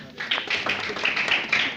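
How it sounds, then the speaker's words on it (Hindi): Congregation in a church hall clapping together for a sister, a dense, steady run of hand claps from many people filling the room, with no talk over it. "बहन के लिए तालियां बजा दें"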